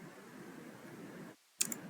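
A single computer mouse click snaps out sharp and close after a brief silence, following a faint steady hiss.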